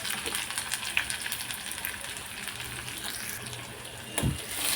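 Onion and curry leaves fry in a pan for a Konkan-style raw jackfruit vegetable dish, making a continuous hissing sizzle with light crackles and a brief thud near the end.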